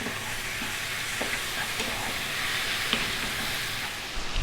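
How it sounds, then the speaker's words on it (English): Steady sizzling and hissing of beef liver frying in a hot pan over high heat, with occasional stirring scrapes, continuous and close. "we're going to be frying this around"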